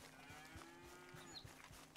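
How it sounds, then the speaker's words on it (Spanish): A cow in Red Dead Redemption 2 lets out a long, low, steady moo that holds for more than a second, moderately faint within the game's ambient outdoor sound. "¿Qué fue ese ruido? A una vaca."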